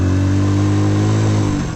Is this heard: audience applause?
no